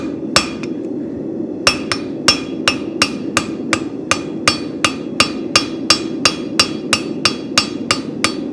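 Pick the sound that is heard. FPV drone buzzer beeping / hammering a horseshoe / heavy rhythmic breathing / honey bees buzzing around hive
hammering a horseshoe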